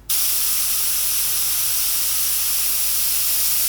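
An airbrush sprays paint in a steady, close, continuous hiss that starts abruptly and holds constant, pointed downward while painting the coat of a Joker figure.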